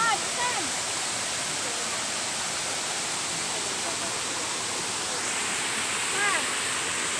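Steady rushing roar of a waterfall in Rizal, Philippines, loud and continuous, with faint voices briefly audible beneath the water noise.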